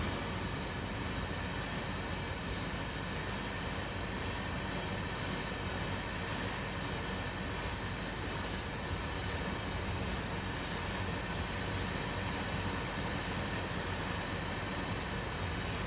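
A train in Train Sim World 2 wearing silver CSX livery rolls steadily past, its dense rumble and wheel clatter filling the whole stretch without letup.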